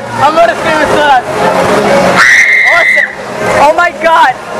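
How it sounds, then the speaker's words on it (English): Person screaming while riding a Musik Express amusement ride at Santa's Enchanted Forest, a sustained high shriek in the middle of excited talking and shouting from nearby riders. "I'm gonna scream so much."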